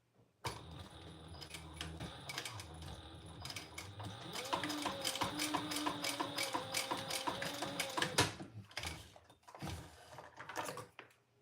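A home sewing machine stitches one more row on a traveler pouch bag. It gives a faint, continuous mechanical whirring with rapid needle ticking that builds through the middle and then breaks into a few short bursts near the end.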